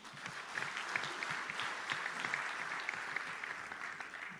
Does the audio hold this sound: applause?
yes